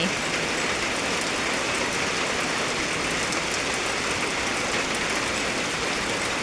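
Heavy rain falls continuously, an even wash of patter and hiss that stays at the same level throughout, with nobody speaking.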